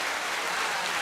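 A short, steady wash of clapping plays as an applause sound effect on a live FM radio show, dense and even throughout its brief run.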